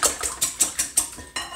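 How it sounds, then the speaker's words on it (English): Cheesecake batter beaten with a whisk in a bowl, about eight quick rhythmic metallic strokes in a steady beat, close and clear with no voices. "Get your whisk. Whisk it up."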